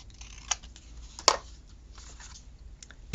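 Christmas paper ephemera is trimmed down with scissors, giving two quiet, crisp snips about a second apart over a faint room hush.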